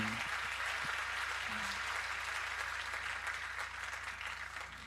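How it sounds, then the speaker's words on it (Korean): Audience applause thanking a worship song performed at a church thanksgiving service, a steady wash of clapping that carries throughout and slowly tapers toward the end, with faint low tones underneath. "다시 한번 뜨거운 박수로 감사를 드립니다."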